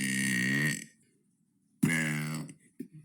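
Two long, loud burps come close together from one person, each with a deep, throaty croak, separated by a brief silence and followed by a small trailing grunt.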